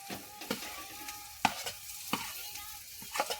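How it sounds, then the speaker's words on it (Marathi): Boiled potatoes fry and get stirred in a pan, a spatula scraping and knocking in sharp, irregular strokes over a low sizzle, close and clear with no voices. "तर बटाटे आपले हे शिजवून घेतलेले बटाटे मी थोडे झालेले आहेत मी ह्याच्यात टाकत आहे बटाटे"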